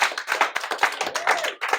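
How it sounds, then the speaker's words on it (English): A church congregation applauds during a sermon, a dense burst of many hands clapping that rises and falls in waves for nearly two seconds, fairly close and loud, with no speech over it. "We can clap that round."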